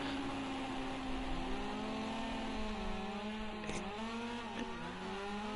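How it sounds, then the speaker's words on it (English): A rally car engine in the Rally Fighters racing game revs high and whines steadily, its pitch rising and dipping as it holds screaming revs through a corner, fairly faint with no talk. "Like Carlo's car, the revs are screaming, aren't they, all the way around the corner?"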